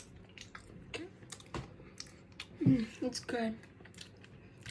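A character in a video game eats Doritos, giving a short burst of quiet, crisp crunching in the middle. Faint taps come before it and a voice speaks briefly.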